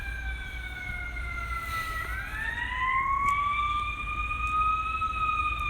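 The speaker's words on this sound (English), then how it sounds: "Ambulances." Ambulance sirens wail loudly and steadily, their rising and falling tones gliding and overlapping as they pass near, over a low rumble of traffic.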